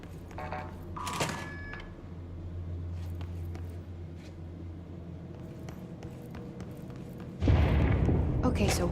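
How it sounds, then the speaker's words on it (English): An explosion in a video game, a sudden loud low rumbling burst that swells late and sustains to the end, following quieter game sounds and scattered clicks. "Explosion"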